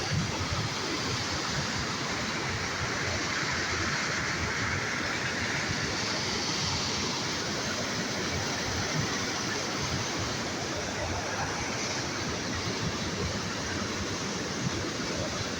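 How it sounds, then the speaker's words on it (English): A powerful waterfall at Hafod Estate in Cwm Ystwyth, Wales, pours through a narrow gap in the rock. Its rushing roar is steady and unbroken, heard close up and alone. "It's just worth getting in this waterfall as well, because the power is immense."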